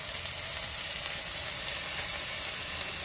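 Shahjeera (caraway) seeds sizzle steadily in hot oil for a mutton curry, a continuous bright hiss and crackle that stays close and even throughout, with no voices.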